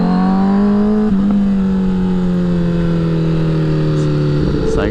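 A rebuilt Honda CBR1000RR sportbike engine held at a steady, high-pitched drone during a ride, its tone sagging slightly as revs ease off, with brief gear-change blips and wind noise.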